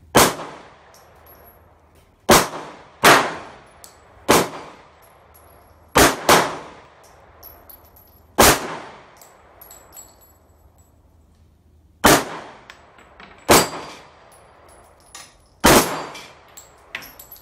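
Nine sharp gunshots from a SIG Sauer P226 MK25 pistol fired at steel targets on an outdoor range, each crack followed by a ringing clang and a short decay, spaced irregularly about a second or two apart, with no talk.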